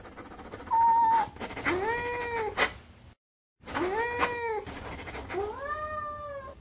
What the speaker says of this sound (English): a momentary vertical displacement of 4 to 6 inches will trigger the vocalizations of the cat